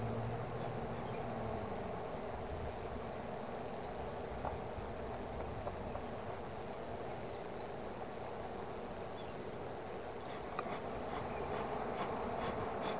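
Honeybees buzzing steadily around an opened hive, a dense, continuous drone of many insects close by with no speech, holding even intensity throughout.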